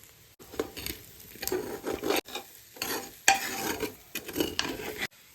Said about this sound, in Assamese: ইতিমধ্যে আমাৰ চিকেন, পিঁয়াজ আৰু গোটেই চাউলখিনি ধুনীয়াকৈ ভাজা হৈ গৈছে